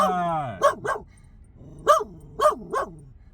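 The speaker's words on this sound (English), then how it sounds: "She doesn't like people in puffy coats, so she starts barking at everybody." A dog barks in short bursts nearby, two quick barks then three more after a pause, following a brief whine at the start.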